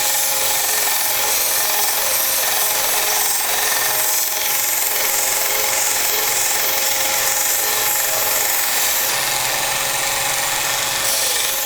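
A power sander grinds steadily against wood, a continuous loud, gritty whir with no pauses or voices.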